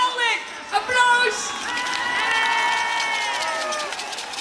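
At an awards ceremony, a crowd cheers and claps with whoops and raised voices for the 2017 De Sjeng presentation, loud and sustained, with people talking over it.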